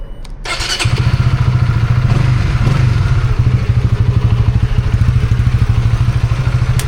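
Honda RSX150 motorcycle engine starting and then running at a steady idle, a rapid rhythmic clattering thump that is loud and close, with no talking.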